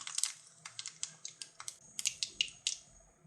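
Mustard seeds spluttering in hot sesame oil while making bitter gourd kuzhambu, giving faint, crisp irregular pops and crackles in quick succession.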